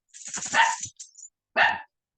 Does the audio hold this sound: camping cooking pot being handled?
no